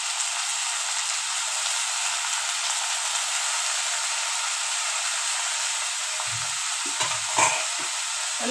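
Radish greens sauté in hot oil with a steady hissing sizzle throughout, close and even, and a few soft knocks of stirring near the end.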